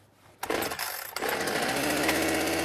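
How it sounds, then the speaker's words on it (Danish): A chainsaw pulled to start with the choke pushed in, a short pull followed by the engine catching and settling into a steady loud buzzing idle, close by. "Så hiver man i saven en gang til."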